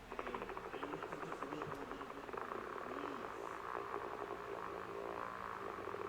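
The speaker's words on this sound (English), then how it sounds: "That was a motorboat's propeller failing." A motorboat's propeller failing in the video game Kentucky Route Zero: a continuous buzzing, rattling engine drone that shudders and sputters unevenly throughout, close and steady in loudness with no voices.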